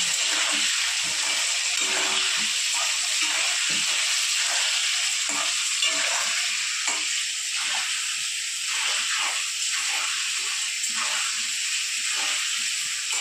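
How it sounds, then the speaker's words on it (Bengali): Salted potatoes frying in a pan, a loud continuous hiss of hot oil with intermittent stirring scrapes and clatter throughout. "তারপর নেড়ে চেড়ে একটু ভেজে নেব"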